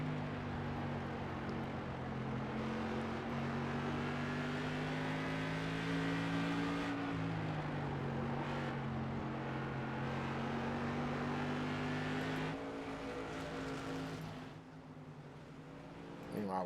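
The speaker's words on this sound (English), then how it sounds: "that car is looking just a little bit unsettled coming out of the turns" Race cars roar steadily around a short oval at Langley Speedway, engines droning at a constant loud pitch as they power out of the turns, with overlapping motors from several cars and a brief dip near the end.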